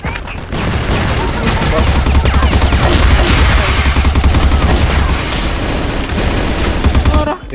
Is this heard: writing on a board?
no